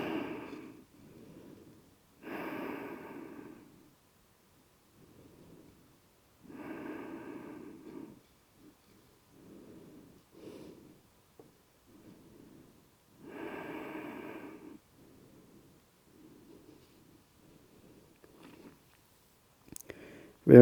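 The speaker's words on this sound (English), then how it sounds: "Few deep breaths." Slow, deep breaths during a yoga pose, several soft inhales and exhales spaced a few seconds apart, close and quiet against near silence.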